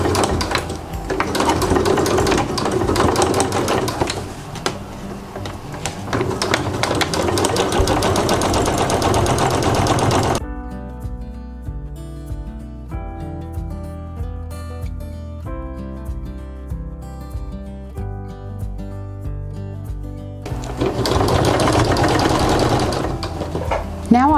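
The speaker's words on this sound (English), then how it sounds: "I'm going to put a zipper foot on my sewing machine and I'm going to stitch a 1/4 inch away from the folded edge" A sewing machine with a zipper foot stitches a boat cushion cover. Two loud bursts of rapid, continuous whirring stitching are separated by a quieter stretch of faint tonal sound in the middle.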